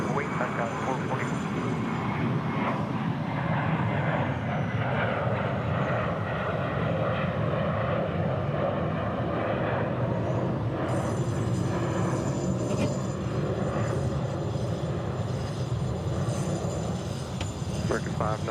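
A jet airliner, an Alaska flight, rolls and takes off from runway 36 right at DFW International Airport, its engine roar loud and sustained throughout, with a tower radio voice heard over it.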